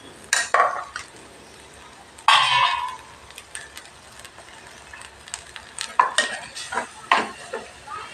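Semolina grains pour and scrape into a simmering pot of boiling water, with clinking utensils and a spoon stirring against the metal, close by.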